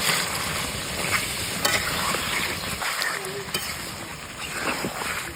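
River tengra fish fry loudly in a ground spice paste of onion, garlic, chili, turmeric, ginger and cumin, a steady close sizzle with stirring scrapes and faint background noise.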